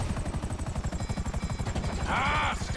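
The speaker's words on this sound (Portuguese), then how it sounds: "Nossa, o helicóptero já tá fumando, cara." A damaged, smoking helicopter in the video game GTA V, its rotor chopping in a fast, steady rhythm close up and loud, with a brief tonal whine near the end.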